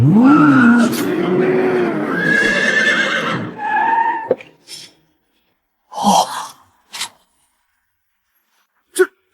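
A BMW car engine starting and revving hard with a whinnying, skidding roar, loud and close for about four seconds, then a few short bursts and sharp clicks separated by silence.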